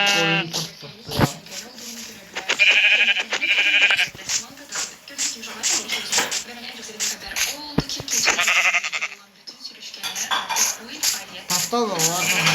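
Sheep bleat in Minecraft, several short bleats mixed with game sounds while someone talks over them in Turkish.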